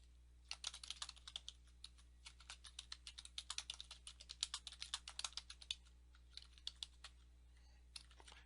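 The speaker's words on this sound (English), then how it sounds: "and then type in your email address, and then type in your site name" Rapid, irregular keystrokes on a computer keyboard while WordPress installation details are entered, a quiet close-up clatter in bursts with a few brief pauses and no talking.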